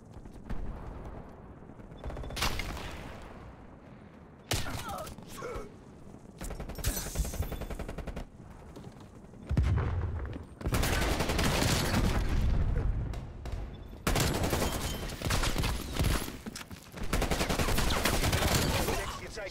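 Gunfire in the video game Call of Duty Black Ops Cold War, repeated bursts of automatic fire and sharp shots in clustered volleys separated by short pauses, loud and close, with game noise between bursts.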